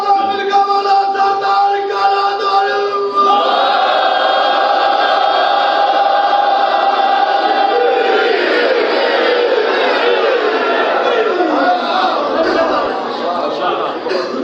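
Audience at a Muharram majlis raising religious slogans together, a loud continuous crowd chant that swells and overlaps throughout, with no single voice standing clear.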